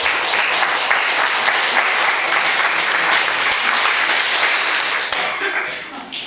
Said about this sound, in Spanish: Un aplauso para doña María.